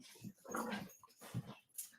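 Pet dogs at home giving short whimpers, yips and soft barks in a few close bursts, with quiet gaps between them.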